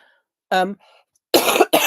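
A voice, then two sharp, close coughs in quick succession near the end.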